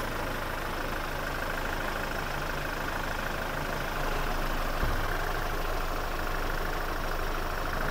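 A Hyundai Starex engine idles steadily with its oil filler cap removed, a continuous, fairly loud mechanical drone with no voices and no clear change in rhythm.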